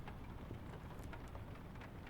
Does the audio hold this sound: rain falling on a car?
yes